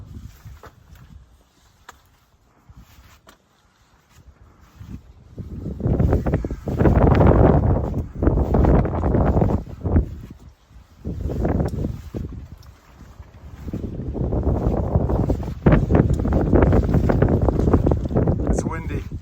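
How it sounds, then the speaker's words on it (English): Strong wind gusts on a mountain section of the Appalachian Trail roar in long, loud surges across the microphone, easing between bursts. "It's windy."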